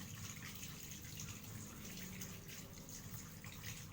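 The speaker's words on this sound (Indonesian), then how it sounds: "Setelah itu, bilas dengan air mengalir." Tap water runs steadily into a sink as hands are rinsed under the flow, a constant, moderately quiet splashing hiss with no talking.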